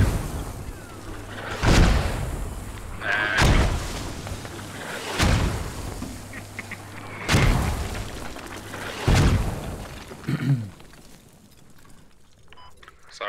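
Mortar launches in the military shooter Squad, set around Al Basrah, thump out as five or six heavy booming reports spaced a couple of seconds apart, loud and close over a low rumble.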